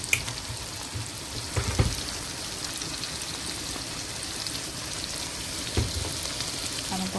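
Seasoned fish frying in a pan with carrot, garlic powder and cayenne pepper, giving a steady soft sizzle with occasional louder crackles and pops, close and continuous with no talking.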